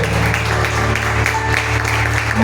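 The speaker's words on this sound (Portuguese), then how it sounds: "Pode aplaudir." Church congregation at a mission service clapping together, a dense steady applause over a low hum of music, close and loud throughout.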